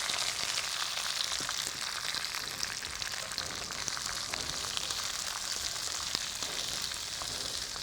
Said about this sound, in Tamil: இந்த வெங்காயம் கொஞ்சம் வதங்கணும்